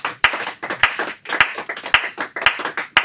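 Hands clap together in church, sharp regular beats with a quick rhythmic pulse, dense and close.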